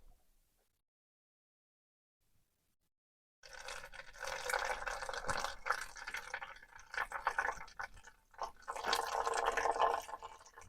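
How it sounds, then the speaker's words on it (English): Water draining and trickling out of a tilted Wacker portable generator, starting after a near-silent stretch as an uneven, splashing flow that surges and eases, close by. "Here comes some water."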